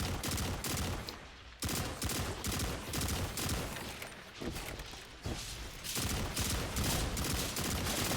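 Rapid bursts of battle rifle fire crackle in a Halo multiplayer match, repeated volleys with brief gaps, fairly quiet and dense, with no speech over them.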